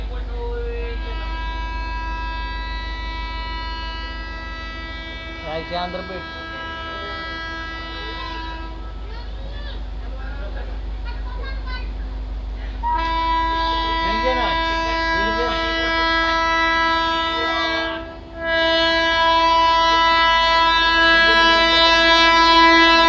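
A train rumbles steadily nearby with a sustained tonal hum and whine, growing louder midway as it draws into a railway station on the Kurduwadi–Sangli line after an announcement; voices murmur in the background.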